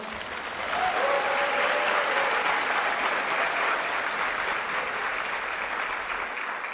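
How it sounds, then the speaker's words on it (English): A large audience at an awards ceremony claps loudly and continuously, a dense wash of applause swelling in and holding steady. "Let's have a round of applause"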